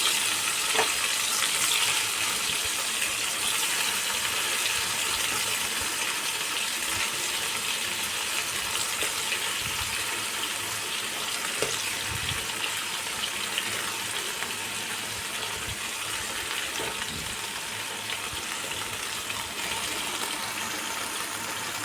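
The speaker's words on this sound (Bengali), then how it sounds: "দেখো একদমই অল্প তেলে আমি মাছগুলো বেশি কড়া করে নয়, হালকা করে ভেজে নেবো এপিঠ ওপিঠ" Prawns frying lightly in a little oil in a pan for malai curry: a dense, steady hiss and sizzle, loud and continuous, with faint scattered crackles and no talking.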